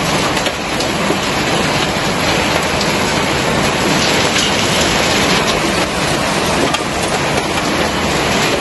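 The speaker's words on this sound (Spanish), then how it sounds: "está lloviendo y está cayendo un buen de granizo" Heavy hailstorm with rain, a loud dense roar of falling water and pelting ice, steady and unbroken throughout, close by with no talking.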